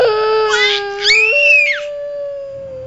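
A dog at a door howls and whimpers in a long, wavering, close cry that rises, dips and trails off over about two seconds, loud and alone with no talk.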